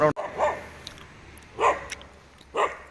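A dog barks three times, each bark short and spaced about a second apart, at moderate distance against a quiet background.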